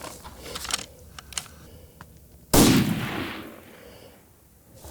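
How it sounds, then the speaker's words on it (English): A single loud, close rifle shot cracks out mid-clip while hunting a bull elk among the mesas of central New Mexico, ringing into a long rolling echo across open country after quiet, faint rustling. "I think the first shot was the best shot."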